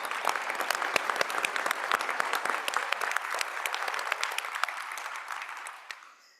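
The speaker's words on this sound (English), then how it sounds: "if you want to give a round of applause, I'd love to do that for the Supreme Court of Texas" An audience at a board of directors meeting gives the Supreme Court of Texas a round of applause, with crisp, closely spaced hand claps that hold steady before tapering off near the end.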